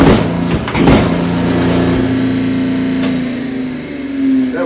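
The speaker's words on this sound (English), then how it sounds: "That was 12 tons of pressure by the hydraulic cylinder." A hydraulic clicker press applies 12 tons through its cylinder to cut a geosynthetic clay liner specimen, giving a steady, engine-like mechanical hum with a couple of sharp clicks near the start.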